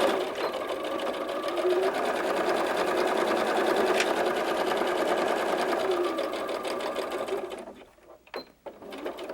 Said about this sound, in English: now I'm going to sew the side seams